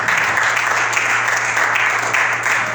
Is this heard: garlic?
no